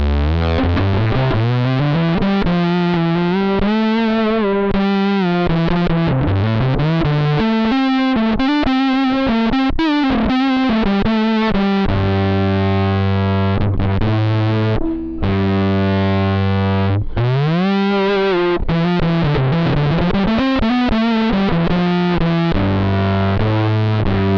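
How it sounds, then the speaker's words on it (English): Bass guitar played through a ghost-effect distortion pedal set for overdrive, giving a thick, fuzzy, sustained tone across a run of melodic notes and held chords, loud and alone with no talking. "So this is distortion, like overdrive."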